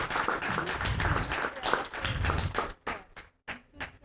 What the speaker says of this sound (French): Ça aussi, on peut les applaudir